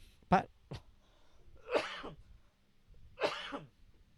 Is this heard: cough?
yes